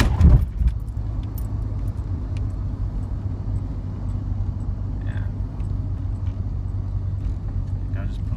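Car keys jangle as they are pulled from the ignition barrel of a Nissan R33 GTS-t, a brief metallic rattle at the start over a steady low engine rumble that continues to the end.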